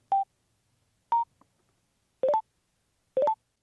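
Cardo Packtalk-S motorcycle intercom sounds four short electronic beeps after its button is held, the first two single tones and the last two rising three-note chirps, evenly spaced, clean and close.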